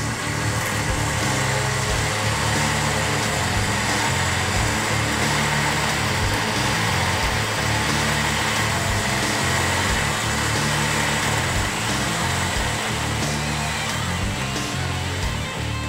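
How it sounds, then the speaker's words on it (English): A Smittybilt X20-8000 winch on a 2013 Jeep Wrangler JK bumper spooling in synthetic rope, a steady loud electric motor whine and drone running without a break, close by. "So now let's go ahead and spool up the synthetic rope onto the winch."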